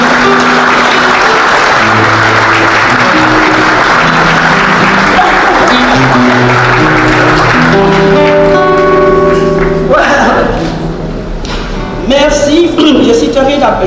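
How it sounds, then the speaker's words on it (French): Loud applause from a large audience at a press conference in a city hall, over sustained instrumental music, with the clapping thinning out and then swelling again toward the end. "que je vous demande d'applaudir"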